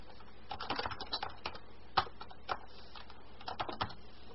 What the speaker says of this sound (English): Type this command.